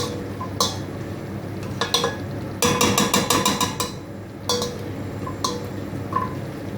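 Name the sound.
mashing onions in a pan for fish curry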